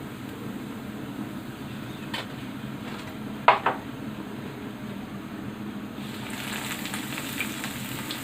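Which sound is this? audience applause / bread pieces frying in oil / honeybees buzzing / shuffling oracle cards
bread pieces frying in oil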